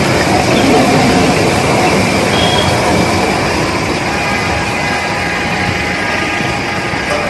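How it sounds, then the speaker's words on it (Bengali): The Darjeeling toy train runs through the hills, a loud, continuous rumble and clatter of wheels and carriages heard from on board throughout, with a faint squeal. "টয় ট্রেন, দার্জিলিংয়ের বিখ্যাত টয় ট্রেন।"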